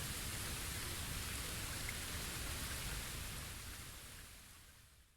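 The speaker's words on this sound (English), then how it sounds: "Looks like the rain has stopped." Steady, dense rain hisses evenly in the video game Bleach: Rebirth of Souls, then slowly fades away as the rain stops.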